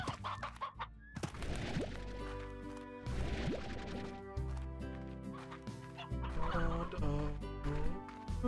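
Chickens cluck and squawk repeatedly in the Slime Rancher video game, loud overlapping fowl calls over background game music.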